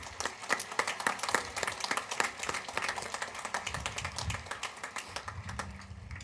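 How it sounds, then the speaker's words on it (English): Scattered clapping from a modest crowd at a 2024 high school graduation ceremony for W.F. West, rendered as a quick, uneven patter of hand claps that carries on steadily across the whole stretch, somewhat distant, without speech. "Let's give these students a round of applause."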